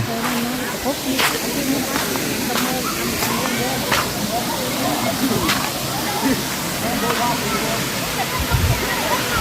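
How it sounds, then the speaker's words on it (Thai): A steady roar of rushing water from Phu Sang waterfall in Phayao, Thailand fills the scene, with a few faint brief knocks and voices nearby underneath. "ตอนนี้เรามาอยู่ที่น้ำตก"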